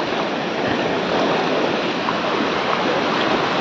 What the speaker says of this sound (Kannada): ಈಗ ಅಲೆಗಳೇನು ಇಷ್ಟು ಜೋರಾಗಿ ಬಂದ್ಬಿಡುತ್ತೆ